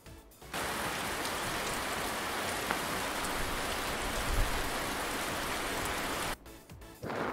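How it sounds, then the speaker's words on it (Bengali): Steady rain pours onto an umbrella in a dense, even hiss. It starts abruptly, holds for about six seconds and cuts off sharply, with a brief return at the very end. "ছাতা মাথায় বৃষ্টি পড়ে"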